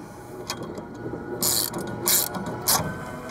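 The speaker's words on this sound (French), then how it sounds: "Vous serrez, vous munissez de vos deux clés de 17" Two 17 mm wrenches tightening a nut and bolt on a folding, lowering motorcycle trailer, giving several short metallic clicks and ratcheting bursts, close and fairly loud.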